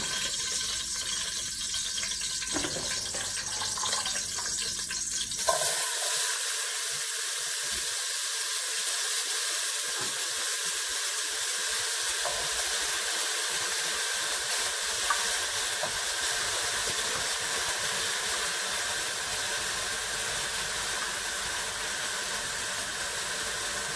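Garlic and vegetables sizzle and crackle steadily in hot oil for a Jamaican seasoned rice with ackee, with a soft stirring scrape and a brief tap-water rush near the start.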